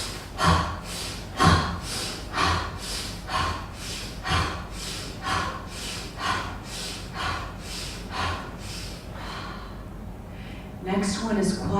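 Rapid purposeful breathing drill: around a dozen sharp, evenly paced inhales and exhales, close and prominent, fading near the end as a voice begins speaking.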